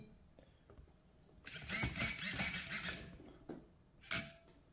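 A Tamiya TA02 RC car drivetrain spins up in a brief whirring, buzzing burst lasting about two seconds, then a short second burst after a pause, close and fairly quiet, with no talk.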